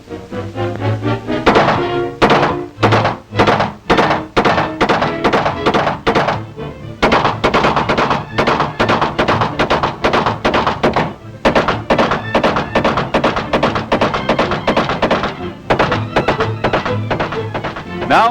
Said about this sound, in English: Intermittent firing.